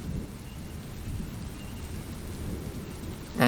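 A thunderstorm with steady heavy rain and low rumbling thunder forms a dense, continuous roar with swells of wind, ending in a brief sharp burst.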